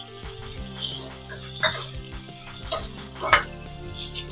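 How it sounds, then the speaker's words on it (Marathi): Red chillies and garlic cloves roast in a pan with a soft, steady sizzle, broken by a few scraping stirs and light clinks, heard fairly close and quiet with no talking. "आणि चार पाच लसणीच्या पाकळ्या या मस्त आपण आता भाजून घेऊ"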